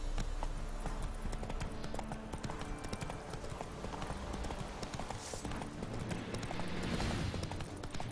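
Roach, the horse in The Witcher 3, galloping with a rapid, steady clip-clop of hooves, loud and close, over a busy game soundscape with no speech.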